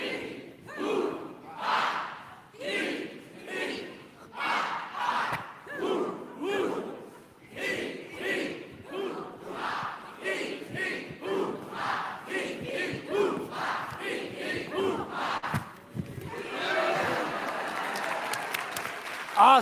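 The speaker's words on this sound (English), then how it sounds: "Give me your loudest, proudest, ha." A large audience shouts a rhythmic call-and-response chant, roughly a dozen loud bursts in steady succession, giving way near the end to a swell of applause and cheering.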